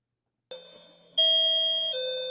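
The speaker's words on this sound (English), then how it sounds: "Rings the doorbell." A doorbell rings with two bright electronic chime tones, a softer first note followed by a louder, sustained second tone, close and clear after a moment of silence, with no speech.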